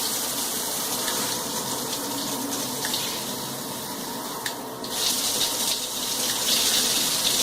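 Water sprays steadily from a six-function luxury shower head, a dense continuous hiss with slight shifts in level and a few faint knocks partway through.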